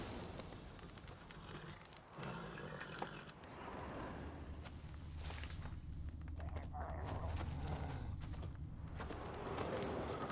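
Steady rhythmic hoof clip-clop of the horse Roach trotting in the video game The Witcher 3, continuous across the stretch, with game ambience and bird coos mixed in and some voice underneath.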